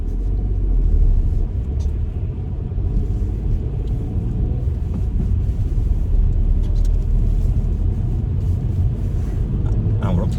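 A manual car pulls away in first gear on a hill start as the clutch comes up, with a steady low engine rumble throughout under a voice speaking.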